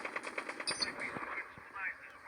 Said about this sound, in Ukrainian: Хтось звідси стріляв.